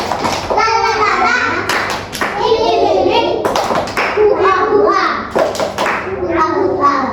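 Children in an Indonesian classroom clap through a rhythmic clapping game, sharp patterned claps mixed with their chanting voices, close and loud.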